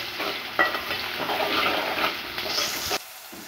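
Onions and green chillies with a pinch of salt fry in a pan while being stirred. A steady close sizzle mixes with scraping strokes, then stops abruptly into near silence.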